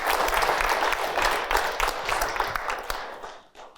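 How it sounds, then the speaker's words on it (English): An audience at a research centre event applauds, a dense burst of clapping that fills the room and then tapers off toward the end. "A round of applause for him"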